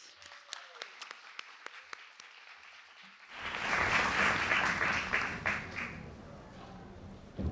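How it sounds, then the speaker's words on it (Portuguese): Audience applause greets a panelist named Camila at a fashion-industry panel, bursting in after a few sparse claps and holding as a dense, loud wash of clapping that fades slightly toward the end. "Para Camila, uma salva de palmas."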